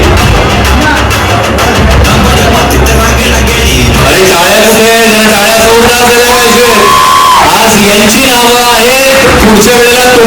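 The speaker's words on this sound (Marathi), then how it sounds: "अरे टाळ्या कुठे? जरा टाळ्या जोरदार" A large audience at a sports tournament event cheers and claps loudly and continuously at first, then the crowd noise gives way to louder voices and music.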